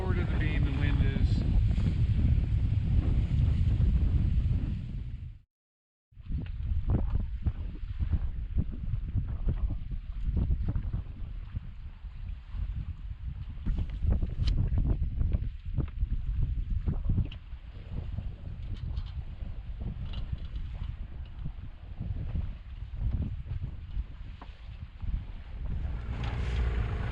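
Strong wind buffeting the microphone aboard a sailboat at sea near a lee shore, a loud continuous rushing roar broken once by a brief drop, with occasional talk under it.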